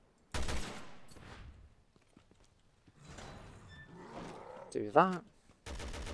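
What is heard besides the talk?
gunfire from the video game Resident Evil Revelations 2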